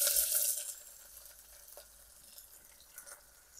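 Chopped onion hits very hot oil, already seasoned with peppercorns and shahjeera, in a pan over a camp stove in a jungle campsite. It gives a loud burst of sizzling that quickly settles into a softer, steady frying hiss.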